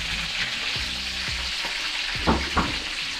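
Onions and chili sizzle in hot cooking oil with a steady, close frying hiss, broken by a few soft scrapes and knocks of stirring in the pan.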